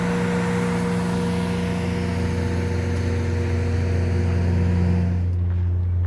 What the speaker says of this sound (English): So they basically have a diesel generator.